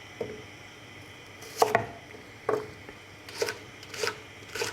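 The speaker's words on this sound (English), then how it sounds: "I think I'm going to cut them lengthways first" A knife cuts lengthways through thick food on a board during pasta gratinata preparation, producing a few separate, moderately loud thunks and slicing strokes spaced irregularly, close by with no talk.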